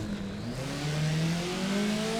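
A racing video game car brakes hard with its front tires locking, the engine droning loudly with slowly shifting pitch and a faint scrubbing edge over the noise, no voices.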